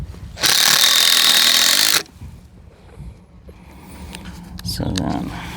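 A power drill driving screws into wooden boards of a concrete form for an AC unit pad, one loud sustained whir lasting about a second and a half, followed by quieter handling clatter and a brief voice.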